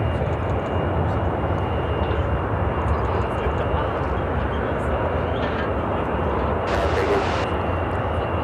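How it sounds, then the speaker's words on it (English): An ITA Airbus A330-200 takes off from runway Niner Center at Chicago O'Hare with a steady, sustained jet roar at moderate distance, while a voice talks over it. "ITA taking off from Niner Center, taking off to Rome, Italy on the A330-200."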